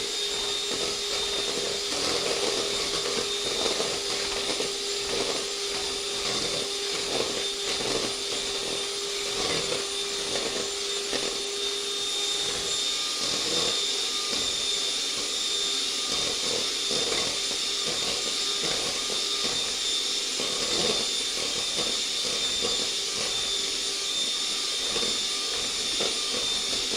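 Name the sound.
electric mixer mixing banana pudding ingredients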